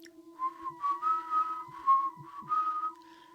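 A person whistles in imitation of an eerie whistle heard from outside a house at night, several short melodic phrases with brief pauses between them, clear and close, with no talk.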